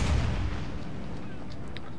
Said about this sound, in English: although there has been an explosion